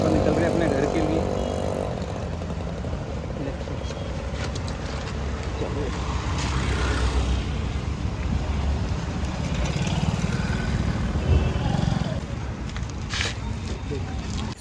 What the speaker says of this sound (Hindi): तो भाई आगे ये बाइक है और हम अपन निकल रहे हैं अपने घर के लिए।